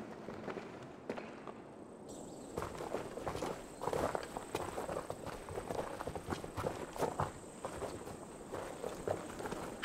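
Soldiers' footsteps approaching in the video game Assassin's Creed Valhalla, a dense run of crunching, clattering steps, faint at first and growing busier and louder, with a high ambient tone and no speech.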